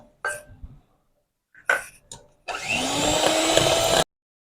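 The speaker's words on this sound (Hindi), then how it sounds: "1 मिनट हम इसे मज़ीद मशीन को जो तकरीबन लो टू स्पीड पे चलाते हुए मज़ीद बीट करेंगे।" An electric hand mixer beats eggs and sugar at low speed, giving a steady, close whir for about a second and a half after a few short clatters and pauses.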